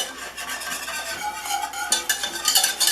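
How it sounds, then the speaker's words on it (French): A whisk stirs warm gelatin mixture in a pot just off the heat, giving soft repeated scraping and sloshing strokes close up, with faint clinks of the whisk against the pan. "je remue avec un fouet"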